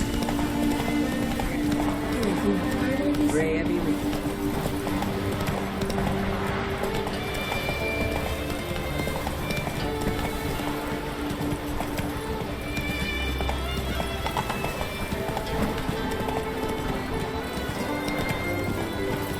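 A horse gallops in The Witcher 3: Wild Hunt, with steady, rhythmic hoofbeats running throughout and an occasional whinny over continuous game ambience.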